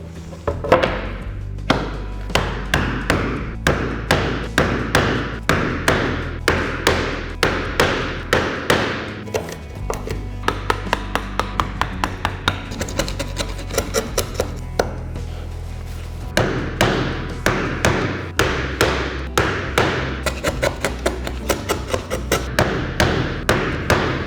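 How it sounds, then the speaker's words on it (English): A bevel chisel is driven by steady, heavy blows to cut a mortise in solid oak. The close, loud thuds repeat in an even rhythm, with brief pauses between bursts and no talking. "I had to resort to the normal bevel chisel"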